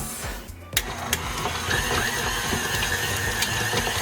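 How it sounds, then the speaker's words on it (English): An electric stand mixer beats softened butter and cream cheese, giving a steady whirring churn that starts after a short quiet moment and a knock, then runs continuously at moderate volume. "Put it right into my mixer and begin to mix."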